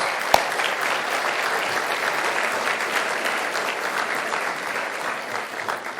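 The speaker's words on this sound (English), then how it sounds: "Please give these folks a round of applause." An audience at an anniversary banquet gives sustained, dense applause that fills the room at an even level for several seconds, with one sharp louder clap near the start.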